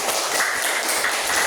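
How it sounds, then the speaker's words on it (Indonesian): Classroom students clap together to applaud a group that has just finished presenting, a steady, even patter of many hands filling the whole moment without a break. "Ya, silakan kasih tepuk tangan."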